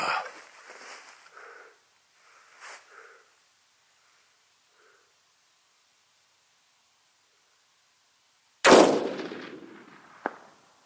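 A single loud hunting rifle shot cracks out at a Coues deer in Arizona country, followed by a sharp echoing tail and a smaller report, after faint murmuring voices and long near-silence.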